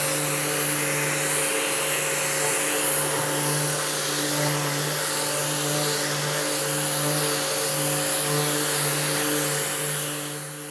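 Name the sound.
sanding a cabinet door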